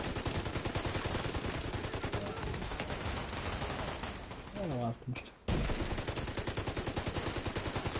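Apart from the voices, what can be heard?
turret gunfire in video game The Division 2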